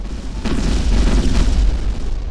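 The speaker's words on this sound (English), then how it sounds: "as you destroy modules or components of a ship, you will see secondary explosions, and those components will disappear" Secondary explosions from destroyed ship modules in space combat in the Kinetic Void video game: a loud, sustained rumble of deep booming blasts rolling together for over two seconds, with no talk.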